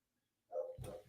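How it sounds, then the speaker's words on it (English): A dog barks at a distance behind a podcast recording, a short burst of two or three yips rising out of near-silence and lasting under a second. "I don't know if you guys hear my dog barking."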